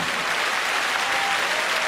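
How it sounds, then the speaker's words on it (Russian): Steady, dense applause from an audience honoring a singer, sustained and even throughout with no breaks or voices standing out. "Все эти аплодисменты вам, Анастасия Игоревна"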